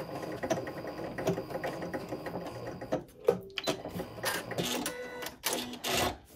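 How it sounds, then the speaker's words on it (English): Sewing machine stitching fabric for a DIY soup bowl cozy, a steady mechanical whir and rattle for about three seconds, then stopping and starting in short bursts as the seam is backstitched back and forth. "I'm just going to sew about an inch because I need something open for flipping"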